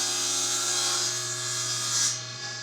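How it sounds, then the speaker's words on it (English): A table saw steadily hums and whines while trimming a plywood piece to length, with the blade's cutting tone swelling briefly near the end of the pass. "I'll trim it to length on the table saw"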